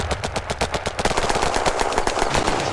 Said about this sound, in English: Gunfire down there, but I'm not sure if it's friendly or hostile.